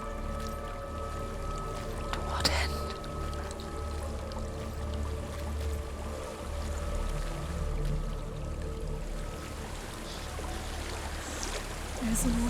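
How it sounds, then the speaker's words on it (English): A waterfall in Hellblade: Senua's Sacrifice pours in a soft, steady rush throughout, faint and continuous beneath a quiet ambient drone. "There's a waterfall."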